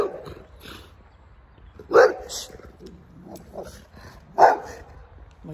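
Dog barks in short bursts at a moderate distance, two sharper yaps standing out around the middle and end, with voices talking in the background.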